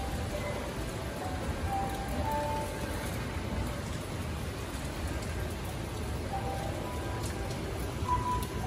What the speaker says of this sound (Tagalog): Pero yung ulan, humina ang ulan,